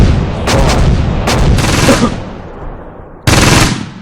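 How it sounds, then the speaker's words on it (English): A mortar strike and gunfire in a World War II game set at Caen: loud bursts of rapid machine-gun fire and booming impacts, then a sudden heavy blast near the end. "that wasn't the most effective mortar strike I've ever done"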